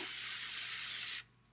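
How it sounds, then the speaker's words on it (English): A single steady hiss of cooking oil spray onto a pan lasts just over a second, then cuts off abruptly, close and fairly loud. "oil the pan. I'm going to spray it down."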